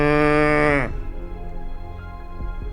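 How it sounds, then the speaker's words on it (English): A cow gives a single loud, drawn-out moo up close, which breaks off sharply about a second in and leaves low background rumble with a couple of faint knocks. "Suddenly, Hamilton heard a moo."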